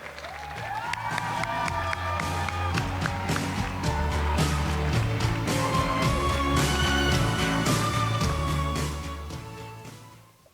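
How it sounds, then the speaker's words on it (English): Sustained applause and cheering from a large crowd at a poetry slam, steady and loud throughout before fading at the end. "Applaud the poet. And keep that applause going."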